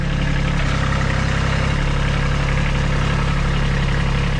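A tractor engine runs at a steady idle near the microphone, giving a loud, continuous, even rumble with a faint rhythmic throb and no voices, while equipment is loaded for a fall sprinkler blowout.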